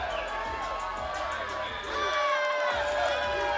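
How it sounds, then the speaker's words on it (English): A sold-out pro wrestling crowd at Hardywood in Richmond, Virginia roars and whoops in a sustained ovation, with a commentator's voice running over the noise. "what an ovation"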